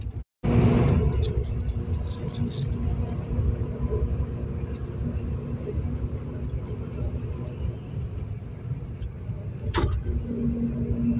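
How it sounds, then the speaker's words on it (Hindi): Steady low engine rumble and road noise inside a moving bus on a morning ride, continuous and fairly loud throughout, with brief clatter near the end and no talk over it. "हम लोग बस में बैठे हैं"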